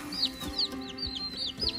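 Newly hatched chicks from an egg incubator cheep in quick, repeated high chirps, about six in a row, close by over a low background hum.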